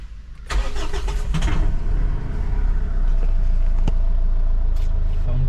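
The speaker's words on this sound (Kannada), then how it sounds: "ಗಾಡಿ ಸ್ಟಾರ್ಟ್ ಮಾಡೋಣ" A car with a 3.6 litre engine, sitting in neutral, cranks and fires up close and loud, then settles into a steady, heavy idle.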